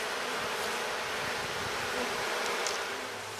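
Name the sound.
honeybees buzzing at the hive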